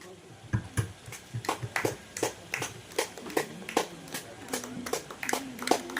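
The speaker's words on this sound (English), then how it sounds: "Please give them a big round of applause." A crowd claps, with the sharp hand strikes scattered and uneven and some voices mixed in beneath them.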